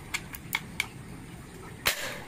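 A single sharp air rifle shot at 1.9 s, fitted with a soft spring and full small-game setting, preceded by a few lighter clicks; close and loud, no talking.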